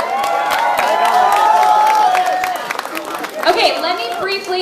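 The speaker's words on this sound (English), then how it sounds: "Let's give a round of applause" A crowd of trivia contest participants and onlookers claps and cheers, with steady applause and scattered shouts fairly close, mixed with chatter and voices throughout before fading slightly near the end.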